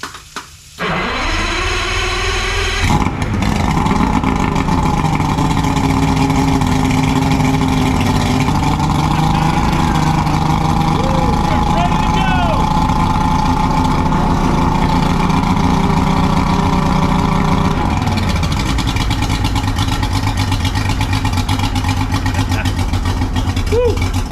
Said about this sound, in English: Let's get this engine started. It's an old two-stroke